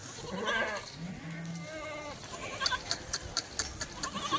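Several Kathiawari goats bleat nearby, a few wavering cries in the first half, followed by a quick run of tapping and shuffling sounds.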